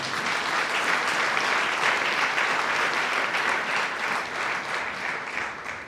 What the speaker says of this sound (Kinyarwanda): Ntabwo twakomera Imana amashyi kuganira.